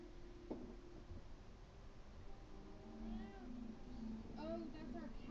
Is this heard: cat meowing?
yes